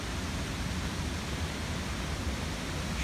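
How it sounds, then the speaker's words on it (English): A raging waterfall swollen by heavy rain in the North Carolina mountains gives a steady, dense broadband roar, even and unbroken across the whole short stretch, with no voices over it. "we should get a very nice big waterfall up here"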